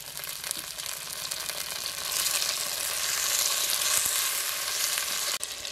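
Tomato fries in oil in a pan with a loud continuous sizzle and dense crackling that swells slightly midway, close up and with no voices.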